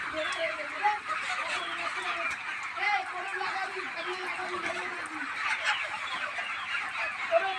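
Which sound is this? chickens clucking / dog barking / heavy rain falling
chickens clucking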